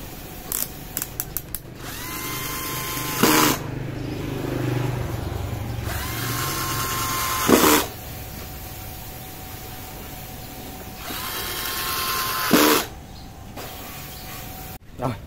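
A repaired Panasonic cordless drill motor whirs in several long runs, each spinning up and winding down with a sharp whine, close and loud, with brief pauses between bursts.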